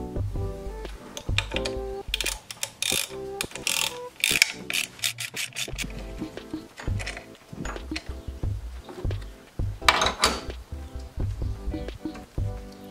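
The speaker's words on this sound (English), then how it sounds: "All you're going to be needing is a ratchet with a T30 Torx bit." A hand ratchet fitted with a T30 Torx bit clicks in quick bursts of pawl ticks, close up, while loosening ignition coil bolts on a Mercedes M113 V8 engine, with short pauses between strokes.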